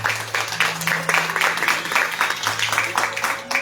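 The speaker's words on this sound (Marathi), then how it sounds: "एक तर जोरदार टाळ्या सुजितसाठी वाजूया" An audience at a classical music concert applauds loudly for Sujit, an accompanist, with dense clapping that rises and falls in waves over a low steady hum.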